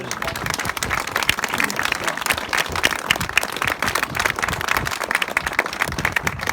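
A French chapel audience breaks into sustained, dense applause, a full crowd of hands clapping loudly and evenly throughout with little else heard.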